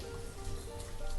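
Steady rain in the village-building game Banished, a soft continuous hiss of falling drops with faint tonal ambience beneath and no voices.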